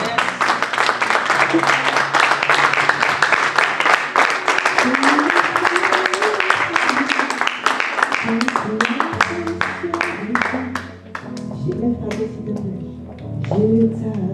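A church congregation applauds and claps in praise during a French-language worship service, with sustained rhythmic clapping alongside singing voices and music throughout.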